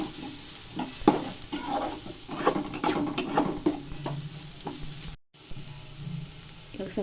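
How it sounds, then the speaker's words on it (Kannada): Onions sizzle in a pan with a pinch of turmeric, a crackling, moderately loud fry broken by stirring scrapes and taps, cutting out for a moment before resuming. "ಈರುಳ್ಳಿ ಸ್ವಲ್ಪ ಚೆನ್ನಾಗಿ ಫ್ರೈ ಆಗಬೇಕು."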